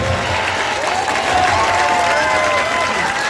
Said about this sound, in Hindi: बजा लो ताली दोस्त